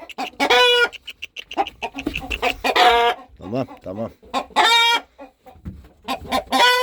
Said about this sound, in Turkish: Şu horozları bir susturayım.